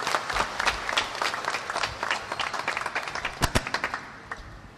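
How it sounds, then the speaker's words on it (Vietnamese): A church congregation applauds at Sunday Mass during Lent, welcoming a visiting priest: dense, sustained clapping from many hands indoors, with a few sharper individual claps rising near the end. "Xin anh chị em cho một tràng pháo tay chào đón cha."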